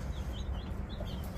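Baby chicks, a batch of about 25, chirp continuously in thin, high peeps over a loud, steady low rumble, close by with no talk.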